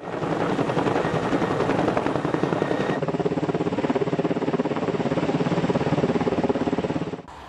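A firefighting helicopter passes over a Montana wildfire, its rotor chop and engine roar loud and continuous with a rapid thumping pulse, then cutting off abruptly near the end.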